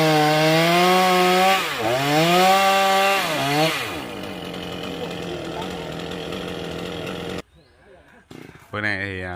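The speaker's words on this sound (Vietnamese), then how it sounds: "Bữa nay thì cái cây này cưa rất là khó nha các bạn." A chainsaw roars loudly, its engine pitch rising and dipping as it bites into a hard-to-cut rain tree trunk, then settles into a steady cutting drone before stopping abruptly.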